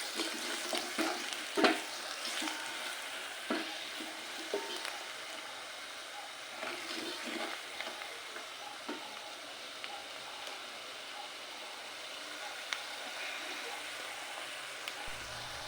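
Beans stew being stirred in a pot: a soft bubbling sizzle with irregular scrapes and knocks of a spoon, quiet and close, busier early on and then settling into a faint steady simmer.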